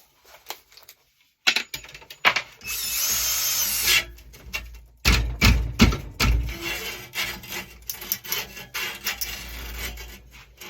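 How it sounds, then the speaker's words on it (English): A cordless drill turns the reel of a push reel mower for sharpening, whirring while metal rubs and scrapes against metal in uneven bursts of grinding and rasping. It sounds close, with short pauses between runs. "You take a cordless drill."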